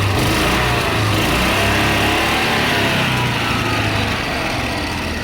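A John Deere Gator utility vehicle engine runs steadily at a high idle, held above normal by its governor, a loud close drone that holds constant with no talk.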